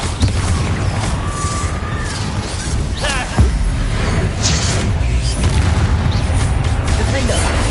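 Explosive Confringo spell bursts from the Hogwarts Legacy video game, a loud boom around the middle of a dense, continuous wash of game effects and combat noise, with a voice shouting over it.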